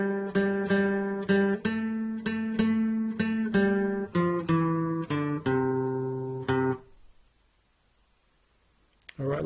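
A guitar played on five strings picks out part 2 of Jack and Jill, a string of evenly spaced plucked notes ringing clearly for about seven seconds before fading into near silence.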